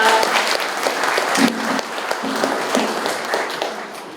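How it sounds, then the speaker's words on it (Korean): Sustained applause from a large crowd at a security lecture, dense and steady clapping filling the room for several seconds without any talking. "다시 한번 뜨거운 박수 부탁드립니다."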